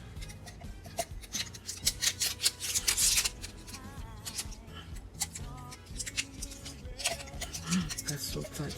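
Infusible ink transfer sheet peeled from a heat-pressed mug, giving close crinkly rustling and papery tearing bursts with scratchy rubbing, mixed with faint speech in the background.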